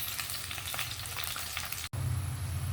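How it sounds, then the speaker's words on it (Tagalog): Tomatoes sautéing in a pan at home, a steady close sizzle and crackle of frying with a brief stir before the sizzling swells louder. "Ginisa na natin yung ating kamatis."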